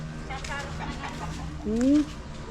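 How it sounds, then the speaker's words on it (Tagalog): Native chickens cluck quietly nearby while a person talks, followed by one louder, rising squawk. "tignan natin yung mga native na manok ni Madier."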